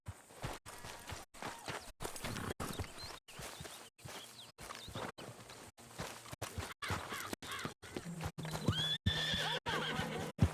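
A horse whinnies amid rhythmic hoofbeats and clopping in the video game Red Dead Redemption 2, with scattered bird calls in the background and a sharp squeal near the end.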